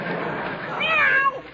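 A cat named Aesop lets out a single loud, drawn-out meow, rising then falling, after its tail is stepped on indoors near a kitchen, with no talking over it.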